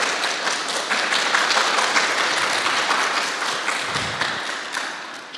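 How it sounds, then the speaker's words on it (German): A live audience applauds to welcome a speaker onto the stage at a talk event. The clapping is dense and steady throughout, fading slightly toward the end, with no voices over it. "Ich glaube, einen Applaus hat sie jetzt schon verdient."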